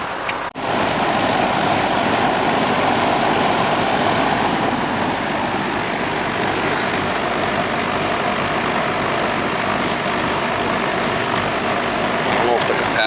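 An old Goodman central air conditioner runs with its compressor going, a steady, loud broadband hum and whir that holds constant throughout, with a brief knock near the start.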